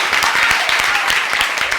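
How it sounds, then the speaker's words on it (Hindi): Audience at a student event clapping loudly and continuously, a dense burst of applause. "इसके लिए जोरदार तालियां"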